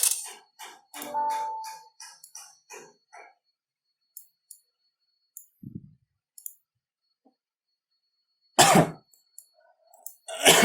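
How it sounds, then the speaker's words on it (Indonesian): Coughing from a woman with a lingering cough during an online meeting, scattered dry coughs and throat noises with clicks between, one loud burst near the end, heard alone without talk. "kakak masih batuk-batuk nih"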